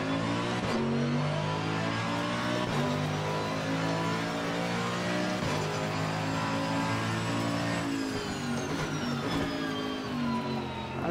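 Mercedes AMG GT3 race car in Assetto Corsa Competizione at Barcelona, engine loud and close throughout, climbing through the revs with several sharp gear-change dips.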